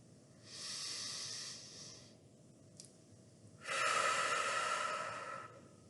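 One person breathing slowly and deeply in a pulmonary rehabilitation session, a long hissing inhale followed by a stronger, louder exhale, close to the mic with no speech.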